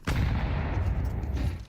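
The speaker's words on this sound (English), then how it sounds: "Bullets whiz by Elige." Dense, continuous gunfire and bursts of shots in a Counter-Strike match at a professional tournament, loud and sustained with overlapping reports throughout, no talk.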